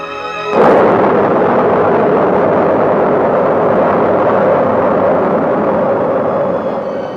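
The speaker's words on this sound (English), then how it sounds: "The historic launching of the Thor-able carrying the Tiros 1 in its bulbous nose takes place at 6:40 a.m." A Thor-Able rocket carrying the Tiros 1 weather satellite launches in the early morning, a sudden loud onset of broad, continuous roaring rumble that holds steady and heavy, without voices.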